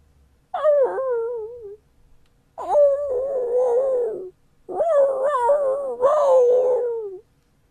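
A soundboard dog howl effect plays as three long, wavering howls with pitch slides, each lasting one to two seconds and separated by short gaps, loud and alone.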